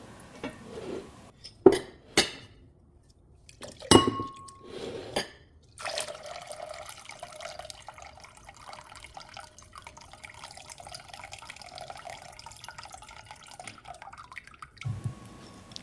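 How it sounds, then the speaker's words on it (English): Cloudy soaking water poured out of seed sprouting jars: a few sharp drips and splashes, then a steady trickling pour for several seconds before it stops, close and fairly quiet. "I'm just going to go ahead and pour out the cloudy water"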